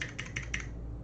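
Quick typing on a keyboard with clicky Kailh Speed Gold switches, three or four crisp close clicks in a brief burst, quiet and alone.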